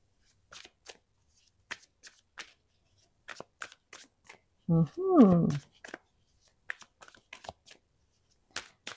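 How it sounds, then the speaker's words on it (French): New oracle cards are shuffled with light repeated taps and riffles, then a brief louder riffle midway, while someone speaks softly over the handling. "Ça me permet de bien mélanger parce que ces cartes sont neuves, hein, donc j'ai besoin de les manipuler pas mal"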